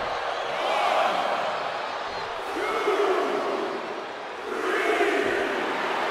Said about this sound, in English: And Cena is firing up the crowd here